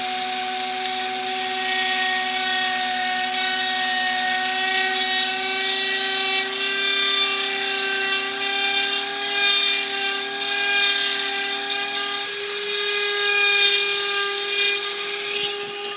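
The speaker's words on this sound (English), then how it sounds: "If you run it at a high speed, it doesn't take much to cut this very thin phosphor bronze down." A high-speed rotary power tool cuts a very thin phosphor bronze On3 model train coupler, a steady whining tone with bright harmonics that shifts pitch slightly partway through, close and alone without talk.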